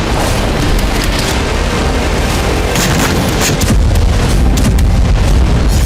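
Explosions from tank shells, drones and missiles in a war zone, a dense continuous roar of loud booming blasts and rumbling with several sharper bursts, no voices.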